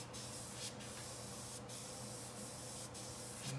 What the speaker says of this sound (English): we're gonna move on to a quick angle spray to accent the fin rays